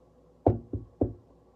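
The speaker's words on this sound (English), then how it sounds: "There was a knock on the door" Three knocks on a door in a quiet room: a firm rap, a lighter one right after, then another firm rap, close and distinct against near silence.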